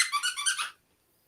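A dog's squeaky toy gives a quick burst of about five sharp, high squeaks close by, then falls silent.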